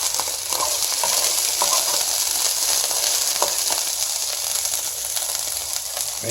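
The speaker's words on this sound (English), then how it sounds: "We're going to throw the ginger in. And you can hear that snap." Ginger sizzling in a hot stir fry pan for a teriyaki ginger dish with bok choy and carrots, a steady loud frying hiss with faint crackles and pops, close and continuous, no talking.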